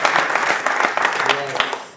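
Comedy club audience applauding briefly at a stand-up set, scattered claps and some cheering mixed with a voice, short and uneven over about two seconds.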